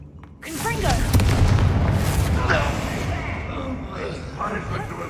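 A Confringo blasting curse goes off in Hogwarts Legacy as a loud, close boom with a long rumbling tail that slowly fades, while a voice talks over the blast.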